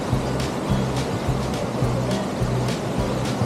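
A strong waterfall in Bighorn National Forest, swollen by melting mountain snow, roars steadily and loudly as a broad, continuous rushing wash, with faint low rumbling pulses beneath it and no clear talk.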